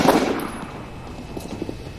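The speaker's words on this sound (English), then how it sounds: "So we gotta shoot this motherfucker with a pistol." A pistol shot in XCOM Long War: one sharp blast at the start that decays quickly, followed by faint scattered clicks and quiet game ambience.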